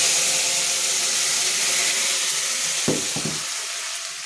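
A ground paste of onion, ginger, cumin and dried chili goes into hot oil and fries with a loud, even hiss, broken near the end by a couple of soft thuds and scrapes.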